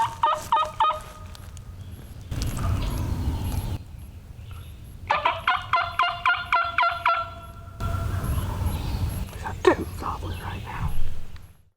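A wild turkey gobbles on Arkansas public land in spring, sounding as rapid rattling bursts at moderate distance, repeated a few times between stretches of rustling and footsteps.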